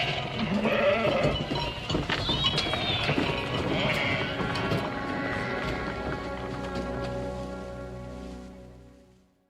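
A herd of sheep bleats repeatedly alongside cattle and shuffling hooves, fairly close and loud, with several overlapping calls before the sound fades out at the end.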